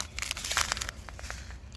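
A plastic bag of hydrangea fertilizer handled up close gives a steady, moderately loud crinkling and crackling for under two seconds, with no voices.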